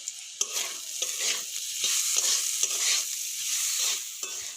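Vegetables frying with salt in a pan, a steady bright sizzle broken by repeated scraping stirs of a spatula, close and loud, with no voices.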